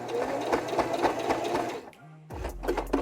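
Sewing machine stitching glove fabric, a rapid rhythmic whir of needle strokes that stops briefly with a hum, then restarts as it backstitches, loud and close.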